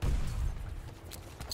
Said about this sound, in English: Let me throw a grenade in there.